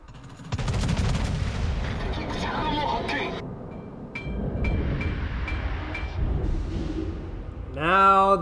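Rockets from an aircraft carrier and naval gunfire boom and rumble in repeated bursts in a naval battle video game, with a voice briefly heard at the end.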